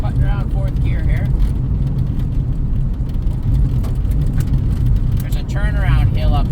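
A 1984 Dodge Mini Ram pickup, a one-owner truck revived after 25 years parked, cruises in fourth gear with a steady, loud low engine drone and road rumble throughout, while a voice talks over it at the start and end.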